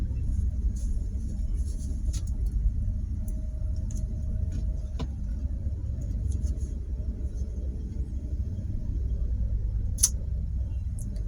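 Slow, crawling traffic jam at an airport parking exit, a continuous low engine rumble and idling cars close by, with faint scattered clicks and a brief sharp tap near the end.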